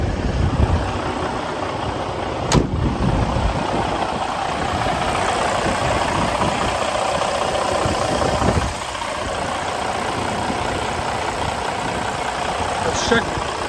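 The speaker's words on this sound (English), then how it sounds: "Let's go out and have a listen to the engine running," 2013 Western Star 4900FA truck with a DD15 diesel engine running, a steady close idle rumble throughout with a brief sharp knock early on and a slight drop in level partway through.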